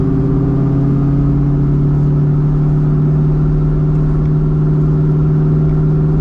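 A 1997 Ford Mustang Cobra cruising from inside the cabin, its engine a loud steady low drone with a strong constant hum and no break or rev change throughout.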